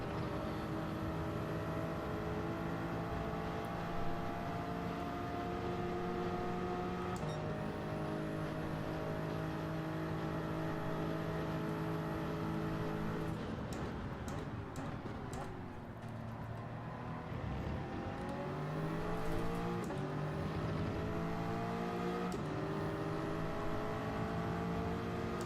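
A race car engine in Gran Turismo 7 holds a steady high drone through a long stretch, gear shifts marking small steps, then dips and climbs again as the car brakes for a corner and accelerates away, loud and continuous without talk.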